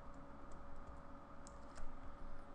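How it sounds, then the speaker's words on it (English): Quiet, steady typing on a computer keyboard while entering a project name in the NetBeans IDE, soft clicks running continuously under a faint background hum, no voices. "just type in Hello World."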